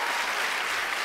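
Applause during a Russian TV music-guessing game show, a dense, steady wash of many hands clapping throughout this short moment, fairly loud and without voices.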